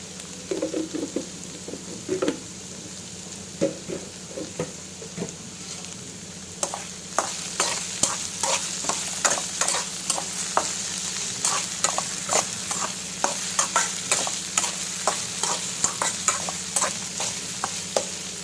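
Okra pieces fry in a pan with a steady sizzle, while a spoon scrapes and stirs in a rapid, repeated clatter through the second half, close and clear, with no voices.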